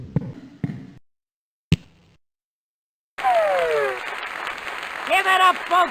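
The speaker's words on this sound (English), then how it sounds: "Give it up, folks. Let's hear some applause." A few isolated taps are followed by loud cartoon crowd applause in the Freddi Fish 3 game, steady clapping mixed with rising whistles and cheers.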